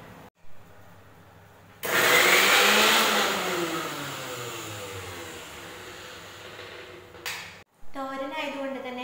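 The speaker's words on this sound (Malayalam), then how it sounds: "ഇത് നമുക്ക് മിക്സിയുടെ ജാറിൽ ഇട്ടൊന്ന് ഗ്രൈൻഡ് ചെയ്തെടുക്കണം" A kitchen mixer grinder whirs loudly for about six seconds, grinding coconut, shallots and chilli in its jar for a thoran, then stops abruptly, with a voice speaking briefly before and after.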